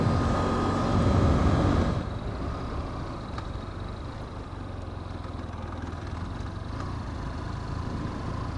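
The engine of a 2015 BMW F 800 R motorcycle gives a loud rumble that eases after about two seconds into a steadier, lower drone with wind rush, and no one talks.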